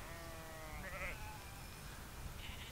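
A flock of sheep in the Retezat Mountains bleats, several overlapping wavering calls rising from a constant outdoor hum, moderately near and with no talk.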